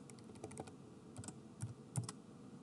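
Keys clatter on a computer keyboard as a role name is typed into Power BI row-level security settings, a run of quiet, irregular clicks in bursts with no talking.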